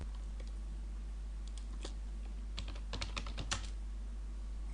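Typing on a computer keyboard, a sparse run of faint, irregular key clicks over a low steady hum, with no talk.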